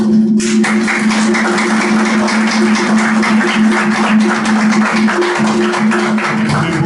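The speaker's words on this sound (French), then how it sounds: "je réclame le dernier applaudissement pour la parole" A church congregation applauds after a Sunday sermon, a dense continuous wash of clapping from many hands that stays loud and even throughout, with a steady hum underneath.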